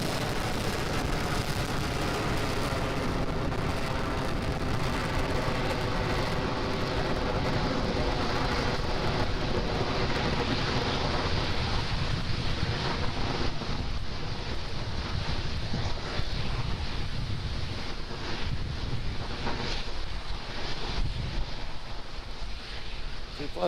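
A SpaceX Falcon 9 carrying the ANASIS-II satellite climbs after liftoff, its engines giving a continuous, loud broadband roar with crackling rumble that holds steady throughout, faint voices barely audible beneath it.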